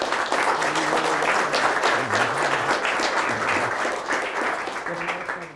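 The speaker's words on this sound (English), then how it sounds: "Let's give them a warm applause." Warm audience applause at a brown bag seminar, sustained clapping from the room with voices talking over it, fading slightly toward the end.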